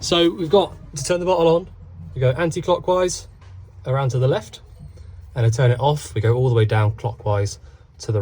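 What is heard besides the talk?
No everyday noise stands out behind the speech.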